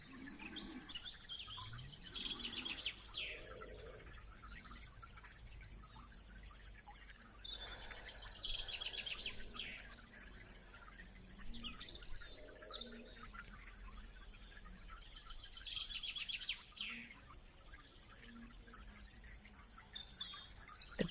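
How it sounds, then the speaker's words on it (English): Birds sing and chirp at dawn outdoors in nature, several scattered calls and trills at moderate distance, with faint insect or water hum underneath throughout. "The birds sing the song"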